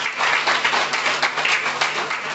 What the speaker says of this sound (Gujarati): બહેનો માટે તાળી વગાડો